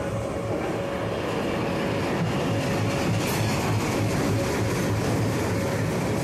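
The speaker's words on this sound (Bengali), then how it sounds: "সামনে ঢুকছে আমাদের পাঁশকুড়া লোকাল" An Uluberia local train pulls into a station with a loud, continuous rolling rumble of wheels and carriages and a faint steady whine running through it, with no one speaking.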